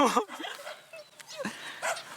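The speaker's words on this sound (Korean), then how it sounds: "강아지들 왜 이렇게 많아" Several dogs on a rural farm in Thailand give short yips and barks close by, in scattered bursts, while someone speaks over them.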